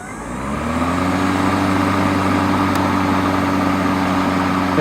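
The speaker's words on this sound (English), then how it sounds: "To turn on the mower, you got to push this down and then pull this lever up." A lawn mower engine catches after starting and settles into a steady, loud, close drone that holds evenly throughout.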